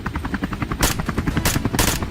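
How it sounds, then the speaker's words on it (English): A helicopter hunting wild boars makes a rapid, pulsing rotor chop that thumps steadily at close range, with several sharp, loud bursts cutting through that resemble gunfire. "the sound of the helicopter sent the boars into a wild frenzy"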